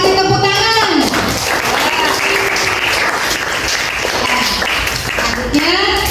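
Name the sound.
classroom applause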